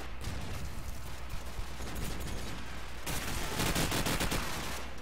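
Dense bursts of rapid automatic gunfire fill a Call of Duty 4 competitive online match, loud and continuous with overlapping rounds and a heavier volley in the second half, no voices.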